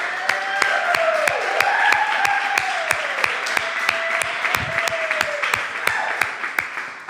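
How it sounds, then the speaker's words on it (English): Restaurant staff clapping for themselves, a moderate round of applause with some sharp, distinct hand claps up front, while a whistle-like tone and a few cheers or voices ride faintly over the clapping. "give yourselves a round of applause"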